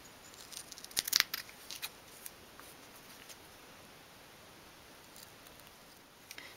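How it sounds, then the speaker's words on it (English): Sharp scissors snip fabric for a 1/12th scale dollhouse sofa, a brief cluster of crisp cuts early on followed by faint scattered rustles in a quiet room. "Go back to my bigger scissors, I think they're sharper."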